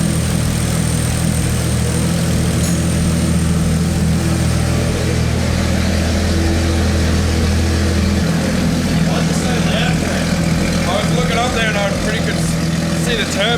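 Nissan R32 GTR with an anti-lag tune running on a dyno, a loud sustained engine drone with turbo whine, steady and close throughout.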